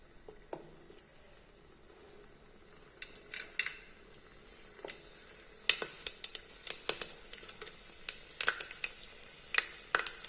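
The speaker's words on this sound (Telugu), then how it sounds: "ముందు మసాలాలు వేసుకున్నాం అవి వేగిన తర్వాత ఎర్రగడ్డ పచ్చిమిర్చి వేసుకుందాం" Whole spices frying in a little oil and ghee in a pressure cooker on a stove, a quiet steady sizzle broken by sharp crackles and pops that grow more frequent as they toast, with no talking.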